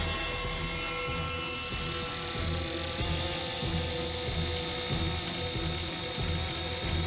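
A remote-controlled helicopter carrying a camera, pressure sensor and thermometer flies for tornado research, its rotors giving a steady, close mechanical whir with a fast ratcheting clatter that holds evenly throughout.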